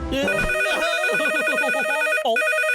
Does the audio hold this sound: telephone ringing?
yes